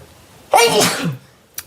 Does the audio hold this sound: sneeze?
yes